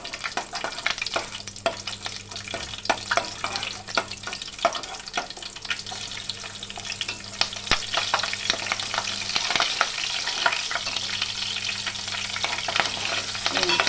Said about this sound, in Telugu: ఫస్ట్ పచ్చిమిర్చి వేద్దాం